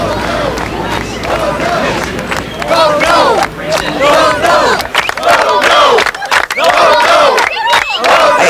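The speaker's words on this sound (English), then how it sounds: "They're afraid of the crowd screaming and all of that." A large protest crowd outside a Yonkers city council meeting yells and screams in loud, continuous waves, with rising shouts and chants swelling and overlapping throughout.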